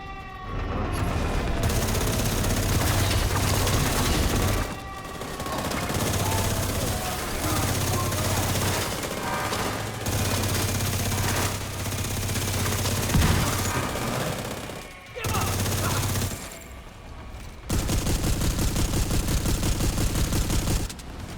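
Heavy automatic autocannon fire in The Division 2 shooter game, dense sustained bursts with brief pauses, loud and close, mixed with game effects and voices.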